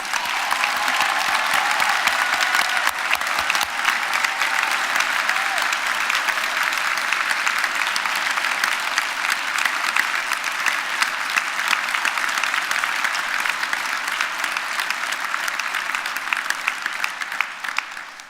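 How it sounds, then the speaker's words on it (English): A large audience at a Belfast university degree ceremony gives graduates a long, sustained round of applause, a thick, steady roar of clapping that holds for many seconds before tapering off at the end. "Let's give all our graduates another huge round of applause"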